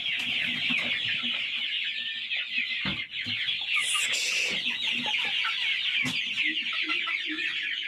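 Many free-range village chickens cluck and chatter steadily on a farm, a dense, continuous flock sound with a few sharper calls and brief knocks standing out, close and fairly loud throughout.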